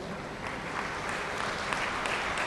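Audience clapping at a golden jubilee celebration and general body meeting of a bank officers' association, a steady dense patter of applause filling the hall for a few seconds at moderate volume.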